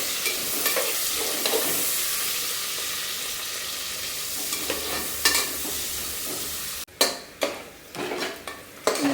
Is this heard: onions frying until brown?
yes